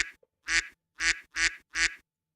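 Four loud, close quacks come in an evenly spaced row after a brief short sound, a voice imitating a duck, with silence between each call.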